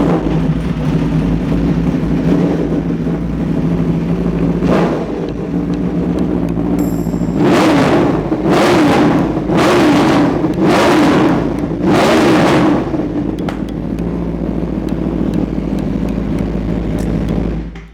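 A motorcycle with an engine over 400cc idles with a loud, deep steady throb, then gives a string of about five sharp revs in quick succession before settling back to idle.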